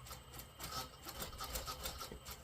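A sewing machine runs over an existing blouse seam to restitch it, giving a quiet, fast, steady mechanical chatter throughout a short burst with no voices.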